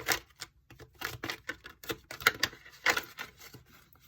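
Tarot cards from the After Tarot deck being shuffled by hand, a run of quick papery riffles and slaps in uneven bursts, close and fairly quiet with no talk.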